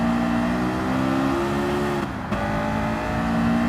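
A Honda S2000 in Gran Turismo 7 accelerates hard uphill on the Grand Valley Highway, its engine note rising steadily and loud, dipping briefly at a shift before climbing again.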